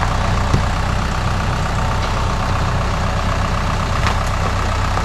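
A tractor engine runs steadily while moving a trailer on a farm, giving a loud, continuous low idling rumble with a few faint knocks, no talking.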